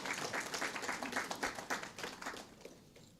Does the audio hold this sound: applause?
yes